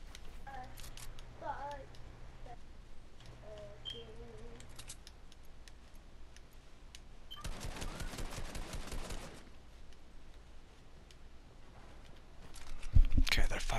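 Gunfire from a Fortnite firefight: a dense burst of rapid shots runs for a couple of seconds mid-clip, with sparser cracks earlier and a louder hit near the end, all under game sounds.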